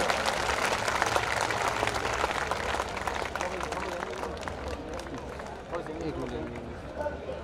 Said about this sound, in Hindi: ऐसे ऑनर बाय का जोरदार तालियों से स्वागत